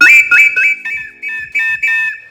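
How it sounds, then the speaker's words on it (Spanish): An ancient double whistle is blown in short bright bursts, two tones sounding together in a choppy rhythm, loud and close. "que es un silbato doble"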